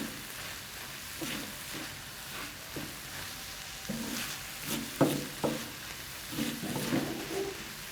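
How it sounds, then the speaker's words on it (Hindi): Chicken with red chilli and spices frying on a tawa, a close sizzle with intermittent scraping and stirring strokes as the pieces are turned, uneven bursts over a steady hiss, no speech. "इन सब को अच्छी तरह मिक्स करें और अब इनको अच्छी तरह भूनते रहें"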